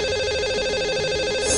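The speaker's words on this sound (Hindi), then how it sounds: "तो लगाते हैं इन्हें अब कॉल।" A telephone line tone sounds as a radio show places a call to a caller: a loud, steady ringing tone with no talking.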